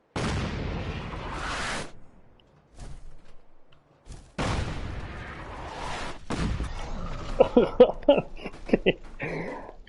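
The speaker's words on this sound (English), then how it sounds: "I hear the shots being fired." Bursts of Fallout 4 gunfire and heavy booms crash in loud waves, separated by brief quiet gaps, ending in a flurry of sharp shots.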